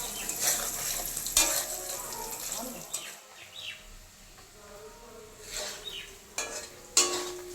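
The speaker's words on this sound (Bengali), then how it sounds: "পনির ভাজার সময় পনিরের মধ্যে সামান্য নুন দিয়ে ভাজতে হবে।" Paneer fries in a pan with a little salt, sizzling steadily while a spatula stirs and scrapes in repeated bursts; a bird calls faintly in the background.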